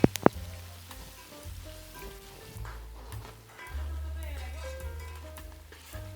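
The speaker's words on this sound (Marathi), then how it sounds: "कांदा चांगला लाल होईपर्यंत आपल्याला परतून घ्यायचा आहे" Onion frying in oil with curry leaves and garam masala, a soft, even sizzle with a couple of sharp clinks at the start and a low hum running underneath.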